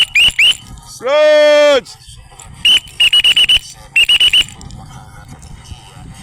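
A whistle blown while training a dog: one long steady blast followed by several groups of short sharp toots, loud and close, with a man calling out between them.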